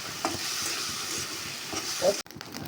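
Small fish frying in hot oil, a steady close sizzle with a few scraping stirs and a brief sharp knock near the end.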